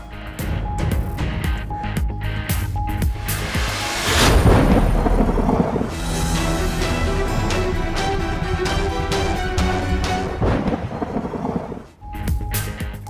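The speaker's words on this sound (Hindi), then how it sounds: "लाहौर के मुख्तलिफ इलाकों में रात को कहीं हल्की कहीं तेज बारिश।" A thunderstorm passes over Lahore at night with steady rain hissing and a deep thunder rumble rolling through the middle of the steady downpour.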